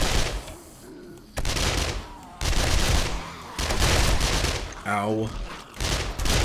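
Rapid bursts of gunfire in the video game 7 Days To Die, coming in loud repeated volleys separated by short gaps, with a player's brief voice among the shots.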